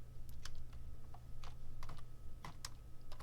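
Typing on a computer keyboard: scattered, quiet key clicks in uneven bursts, close by, over a low steady hum.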